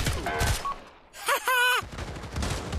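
Automatic P90 gunfire in the Pavlov VR game, a short burst of rapid, loud shots cracking out at close range after a brief lull, with indistinct game noise and voices around it.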